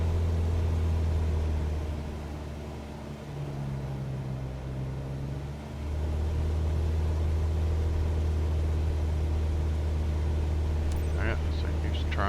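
Single-engine propeller aircraft in Microsoft Flight Simulator 2024 set to cruise power at 2,300 RPM, a steady loud low drone throughout with a brief dip in pitch midway and faint clicks near the end.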